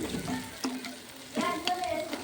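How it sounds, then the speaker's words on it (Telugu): Onions and green chillies sizzle steadily in hot oil for a chicken curry, with a few stirring scrapes breaking through the continuous close frying hiss. "ముందుగా ఆయిల్ హీటెక్కిన తర్వాత ఉల్లిపాయలు పచ్చిమిరకాయలు బాగా వేపుకోవాలి"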